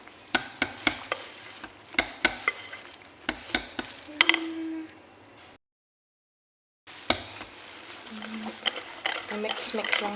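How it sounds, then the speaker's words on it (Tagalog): Banana cake batter being stirred with flour in a bowl, a run of sharp spoon or whisk knocks against the bowl's side in uneven rhythm, close and moderately loud, with a brief silent gap before more scraping and tapping. "Mix lang natin para hindi buo-buo yung flour dito."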